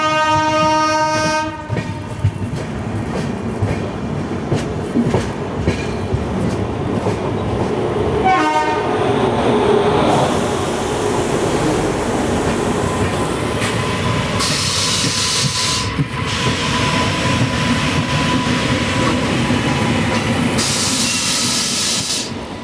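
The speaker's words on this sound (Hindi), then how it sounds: "जो राइट साइड से ट्रेन लोकोमोटिव आ रहे हैं, वो आ रहे हैं शालीमार की तरफ से" Train locomotives pass on the adjacent track beside the Gitanjali Express heading toward Howrah. A horn blast opens, then a steady, loud rolling rumble follows, with hissing surges, all heard from onboard.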